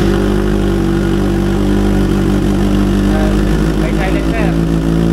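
A 2025 Kawasaki ZX6R motorcycle fitted with a Boris Performance exhaust idles loudly and steadily up close, with a slight rise in revs near the end and voices talking over the engine.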